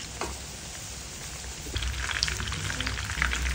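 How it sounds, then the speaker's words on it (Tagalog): Steady rain pours and patters outdoors at moderate volume, a constant dense hiss with scattered droplet taps growing slightly heavier partway through, with no talking. "Umuulan na mga kamamsi."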